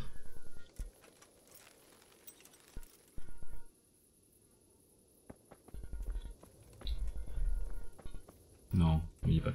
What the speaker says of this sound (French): C'est beau la marche arrière à cheval.